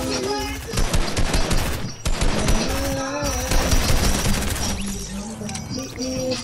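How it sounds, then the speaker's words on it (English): Rockets firing in the air: a dense, continuous crackle of rapid bursts like a fusillade, loud and sustained, with a brief dip before building again and thinning toward the end. "Whoa, what are those rockets in the air?"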